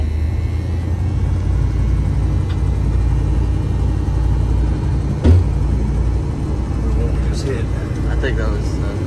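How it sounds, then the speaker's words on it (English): GMC sport vehicle driving off, a steady low engine rumble and road drone filling the cabin throughout, with a brief thump midway and faint creaks, constant and close. "as long as I hold this button, we can drive."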